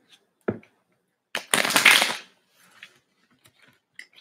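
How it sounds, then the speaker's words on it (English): A deck of reading cards is shuffled in short bursts, a quick riffle followed by a longer, denser rustling shuffle, then scattered light card taps and handling sounds, close and fairly quiet with no talking. "Feeling like I only need to do 2 shuffles with this"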